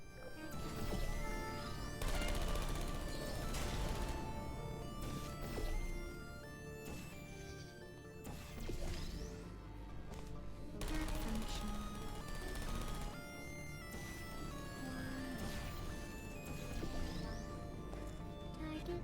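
Turrets firing bullets in Portal 2, heard as repeated crackling bursts and clattering impacts over a dense game soundscape, fairly loud and continuous across the stretch with no talking.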